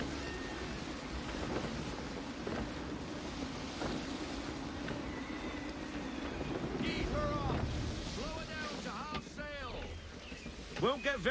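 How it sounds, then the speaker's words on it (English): Gusty wind rushing over open sea as a sailing ship moves under full sail in the video game Assassin's Creed 3, a broad steady roar with water wash beneath, a voice speaking near the end. "Wind looks to be shifting. Stay alert, Connor. Gusty winds can be difficult to manage."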